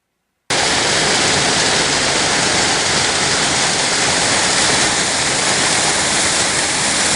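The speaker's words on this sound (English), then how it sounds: "There's the waterfall." Phantom Creek waterfall in the Grand Canyon, a loud, steady, close roar of falling water that bursts in after a brief silence and holds unbroken.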